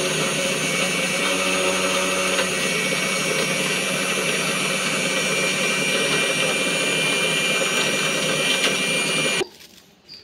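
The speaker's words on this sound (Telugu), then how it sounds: "ఇప్పుడు ఇది కూడా మిక్సీ పట్టేద్దాము" A mixer grinder blends jaggery for junnu with a loud, steady, high-pitched whir that runs for about nine seconds, then cuts off abruptly and is followed by a short clunk.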